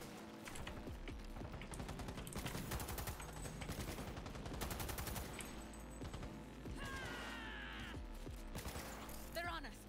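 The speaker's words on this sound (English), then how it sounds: "This is a pretty good shotgun." Repeated shotgun blasts and other gunfire in Cyberpunk 2077 at night in Night City, heavy rapid shots stacked densely over ten seconds with mechanical clatter and a voice speaking beneath the firefight.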